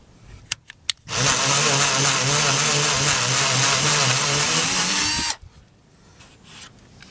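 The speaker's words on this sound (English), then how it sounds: "I'm going to drill a 1/2 inch hole right here" A power drill whirs loudly and steadily for about four seconds, boring a half-inch hole in a chicken coop door, starting abruptly after a few clicks and stopping sharply.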